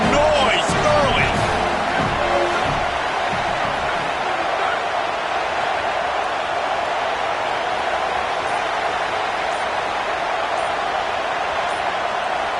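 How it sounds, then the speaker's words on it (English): A packed football stadium crowd at an Oregon at USC college game gives off a steady, loud roar that fills the whole stretch, with a few brief sharper cheers near the start. "This crowd bringing the energy and noise early."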